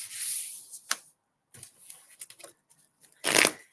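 Tarot cards are shuffled up close in several quick riffling bursts with short pauses between them, and no voices are heard.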